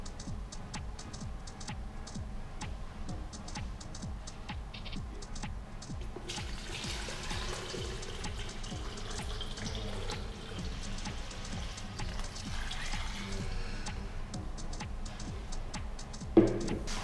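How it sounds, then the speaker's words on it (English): Fresh water pours into the tank of an espresso machine during descaling, a soft continuous trickle with a faint ticking rhythm, fairly quiet and close, with a brief clunk near the end. "fill the tank with 2 liters of fresh water."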